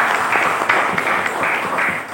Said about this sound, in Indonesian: Boleh kasih aplaus dan tepuk tangan buat beliau.